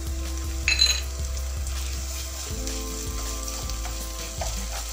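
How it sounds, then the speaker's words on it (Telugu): Onions with ginger garlic paste fry in a pan, giving a loud, steady sizzle close by, with occasional clinks and scrapes of a utensil stirring against the pan. "ఉల్లిపాయలు ఇలా హాఫ్ కుక్ అయిన తర్వాత మనము అల్లం వెల్లుల్లి పేస్ట్ కూడా వేసేసుకుందాము."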